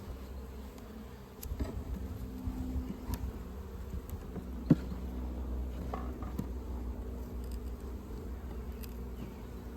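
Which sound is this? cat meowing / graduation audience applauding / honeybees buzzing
honeybees buzzing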